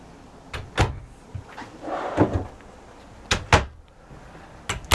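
Wardrobe slide doors and drawers in a 2022 Keystone Cougar 290RLS RV opening and closing, about six sharp knocks and thuds in pairs with a soft sliding rustle between them, close by with no talking.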